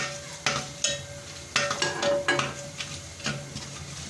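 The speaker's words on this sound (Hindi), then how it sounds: "जो खड़े गरम मसाले थे फ़ौरन इसमें ऐड करने हैं।" Whole garam masala and onions sizzling in hot oil while being stirred for chana pulao, with soft frying crackle and repeated clinks of a spoon against the pot.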